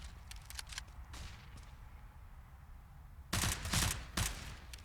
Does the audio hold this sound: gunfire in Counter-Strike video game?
yes